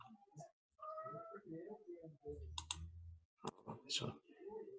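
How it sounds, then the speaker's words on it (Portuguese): Short, sharp mouse clicks land in a few quick bursts while someone speaks steadily over them, selecting points on a map in QGIS GIS software. "eu vou clicar nos pontos onde vai ser"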